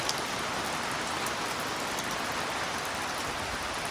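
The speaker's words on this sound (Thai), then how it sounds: "ฝนตกแรงเลย" Heavy rain pours down in a dense, unbroken hiss, loud and constant throughout, with no voices over it.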